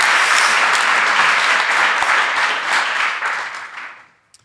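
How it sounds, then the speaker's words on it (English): Applause from a live podcast audience, loud and dense for about four seconds, then thinning out and fading to near silence at the end. "big round of applause if you pass the microphone back."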